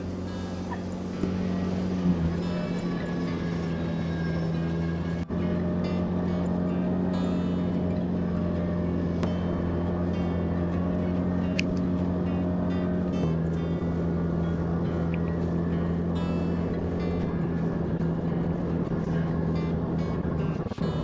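A snow blower engine runs steadily in third gear, pulling under load as it clears snow on a mountain ranch, a continuous droning hum that holds even and loud throughout with a slight shift in pitch partway through.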